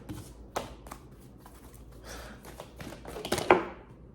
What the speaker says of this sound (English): That was the worst shuffle.